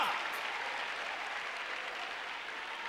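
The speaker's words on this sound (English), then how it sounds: "Clap your hands, everybody in this house." A church congregation claps along during a praise break, dense steady hand-clapping from a crowd filling the room, continuous and fairly loud for the whole short stretch with no talk over it.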